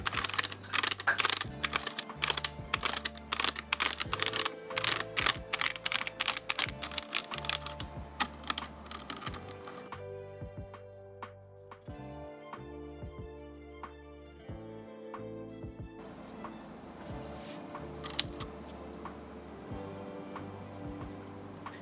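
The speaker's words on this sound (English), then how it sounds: "we're gonna just clean the keycaps of this keyboard and around it and so forth" Keycaps on a Roccat Vulcan Aimo 120 keyboard clatter and click rapidly during cleaning, a dense, close run of key presses that thins to sparser, quieter taps and then picks up again, with no talk.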